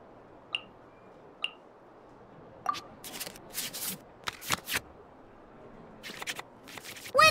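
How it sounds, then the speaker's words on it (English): Cards shuffled back into the draw pile in the Genshin Impact card game: two soft ticks, then a few quick bursts of papery shuffling swishes, quiet and with no talk. "we can select any number of cards in our hand to shuffle back into the draw pile, and then draw the same number of new cards"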